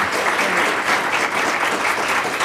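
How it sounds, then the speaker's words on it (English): Loud, dense applause from an audience at a community mental health gathering in Johnson County, steady and sustained throughout with no speech over it. "Can we please have a round of applause for our providers?"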